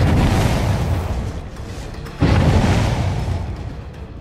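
A grenade explodes in the game Dead by Daylight as a loud, broad boom with a long rumbling tail, followed about two seconds later by a second sharp blast that also fades out slowly.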